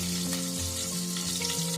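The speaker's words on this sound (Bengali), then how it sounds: "মাথার আরেকটি পাশ আছে, ওটা আমি ভেজে ফেলবো।" A fish head fries in hot oil for a bottle gourd curry, a steady dense sizzle heard briefly with a low background hum underneath.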